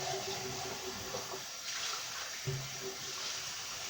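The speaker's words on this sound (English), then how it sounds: "rinse it out here really good" Canned beans are rinsed under running water, a faint, steady water rush with a brief splash partway through.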